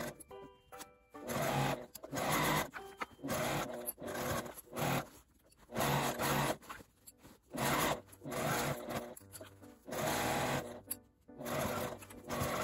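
A sewing machine runs in bursts, stitching a 1 cm seam allowance around a fabric food-storage bag while leaving a 10 cm turning opening unsewn, with short pauses between runs of steady rapid whirring.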